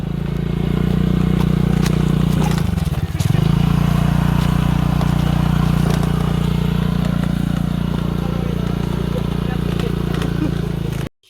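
Motorbike ridden along a rough jungle track, its engine droning loud and close throughout with a brief dip and rattle partway before the steady roar resumes.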